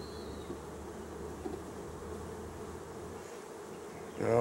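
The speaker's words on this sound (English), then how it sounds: "Crazy bees." Honeybees buzz steadily around an opened hive during a beekeeper's inspection, a dense continuous hum close by, with a brief louder rustle or thump right at the end.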